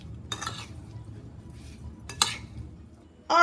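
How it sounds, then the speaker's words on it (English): Blueberries with sugar and lemon juice are stirred in a dish for a Southern blueberry cobbler, giving a few sparse spoon clinks and scrapes against the bowl over quiet background, close and distinct. "I'm through stirring up the blueberries"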